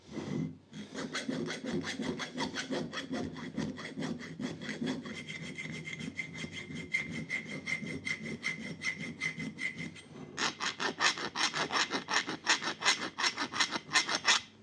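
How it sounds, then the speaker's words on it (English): A small round file chamfers the lip around the eye of a rafting axe head with steady, rhythmic rasping strokes, close up and moderately loud, quickening and sharpening toward the end. "I like to flip them over and chamfer this lip around the bottom of the eye. This like little round file works pretty well for this."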